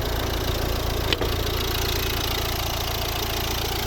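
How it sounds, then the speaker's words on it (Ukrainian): A 2012 Volvo S60 1.6 D2 diesel with manual gearbox idling, a steady low rumble with an even clatter, close and constant, with one brief knock partway through. "Ну, ось робота двигуна."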